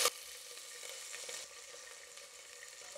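Fifteen small shallots sauté in hot oil with cloves and cinnamon for a mutton curry, giving a steady, fairly soft sizzle with a brief louder crackle at the start and faint stirring touches. No talking.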